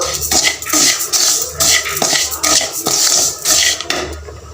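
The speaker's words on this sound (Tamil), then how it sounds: "நம்ம பச்சரிசியை மீடியமான ஹீட்லேயே வச்சு நல்லா வறுத்து எடுத்துக்கணும்" Raw rice roasting in a pan on medium heat, stirred in regular rhythmic strokes that bring bursts of dry scraping and rustling grains, close and fairly loud with short gaps between strokes.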